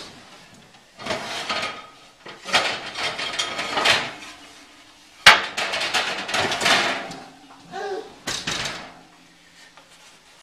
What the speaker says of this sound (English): So I've got my pizza stone in the oven. So I'm going to pull that out.